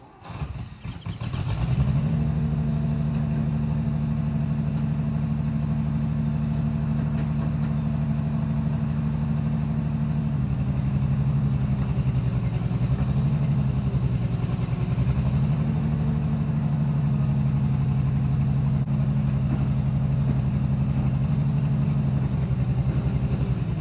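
Bucyrus-Erie 10B crane's engine running steadily and loudly while picking a load of a TD9 transmission and final drives, a continuous low drone with slight shifts in pitch and load throughout, no talking.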